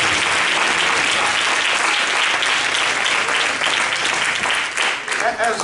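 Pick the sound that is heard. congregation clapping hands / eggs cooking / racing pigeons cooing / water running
congregation clapping hands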